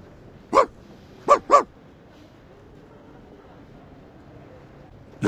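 Puppy barking indoors: one sharp bark, a pause, then two quick barks in a row, loud and close over a quiet background, with the start of another bark at the very end.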